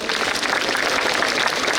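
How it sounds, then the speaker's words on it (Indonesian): A crowd claps for Padang TV at a school event at SMAN 1 Ampek Angkek in West Sumatra, producing dense, steady, close applause that carries through without a break and with no voices over it. "tepuk tangan untuk Padang TV barangkali"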